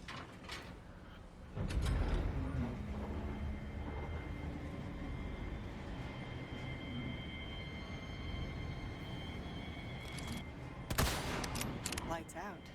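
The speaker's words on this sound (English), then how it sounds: "They're really trying to make sure Krauser's the one getting all the attention with the machine guns" Sustained machine gun fire in Resident Evil 4 Separate Ways, a continuous roaring barrage with a heavy onset, a steady dense rattle throughout and a louder burst near the end, mixed with game effects.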